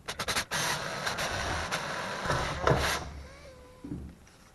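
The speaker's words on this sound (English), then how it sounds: "So I'm going to drill a pilot hole first." Drill boring a pilot hole in metal on an amplifier chassis, a steady close whirring grind for about three seconds that winds down and stops.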